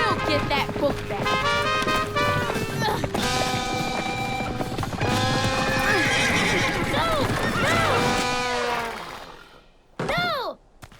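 Cartoon horses gallop with driving hoofbeats under lively music in an animated children's show, with loud neighs throughout, then the hooves fade and a final sharp whinny rings out near the end.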